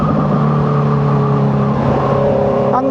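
A loud Honda CB650R motorcycle engine revving steadily nearby, a droning hum holding its pitch with a slight rise near the end.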